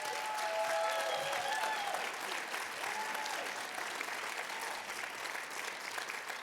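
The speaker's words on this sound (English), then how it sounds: "can you give a big round of applause" A theatre audience at a performing arts centre applauds steadily and loudly throughout, a dense wash of clapping with a few whistles near the start, no speech over it.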